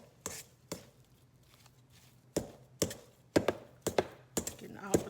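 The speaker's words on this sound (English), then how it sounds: "Getting all the potatoes cut all the way through." A knife chopping through cooked potatoes in a pan for potato salad, striking the bottom of the pan in a series of sharp, close thunks and taps, loose at first, then coming in quicker bunches toward the end.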